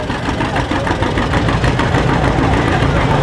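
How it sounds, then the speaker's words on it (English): An antique tractor engine with a straight exhaust stack idles at a show, a loud, close, steady low chugging with a rapid pulsing beat that runs continuously, while voices chat faintly underneath. "You can get a good idea what the engine sounds like."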